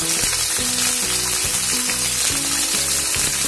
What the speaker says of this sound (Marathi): आपल्याला फक्त अगदी थोडंसं शॅलो फ्राय करून घ्यायचंय